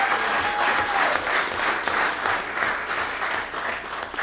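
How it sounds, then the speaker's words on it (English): A room full of people gives a round of applause for a presenter's team at a county freeholders meeting, dense steady clapping that swells and holds for several seconds. "Please give my team a round of applause."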